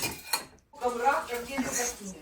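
Dishes clatter and clink during washing at home, close and intermittent, with cutlery rattling under steady conversation throughout.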